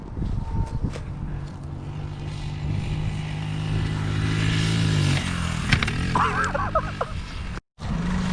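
Pit bike engine revving during a ride, a steady buzzing drone that rises in pitch toward the middle and holds nearby, with a brief cut near the end.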